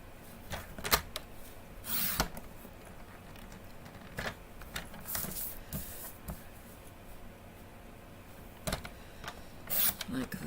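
Paper cardstock being trimmed to size on a cutter, giving scattered short slicing and scraping strokes at close range, with quiet pauses between the cuts.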